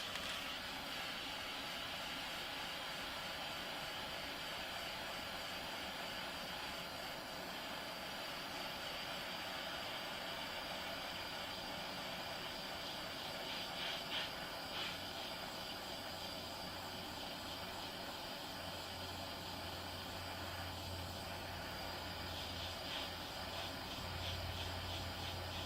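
A steady hissing roar from a heat source warming a graphite golf shaft for pulling, continuous and even throughout with no pauses, and a faint low hum emerging toward the end.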